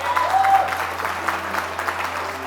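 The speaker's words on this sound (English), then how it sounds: "They represent, we can clap that up." Audience applause at an honoring event for Teens for Food Justice, a soft, steady patter of clapping with a low hum beneath and a faint tone near the start.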